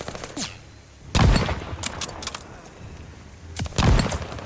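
Gunfire in Call of Duty: Vanguard, with two loud bursts of rapid shots separated by quieter game noise and scattered smaller cracks.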